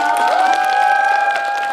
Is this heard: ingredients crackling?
no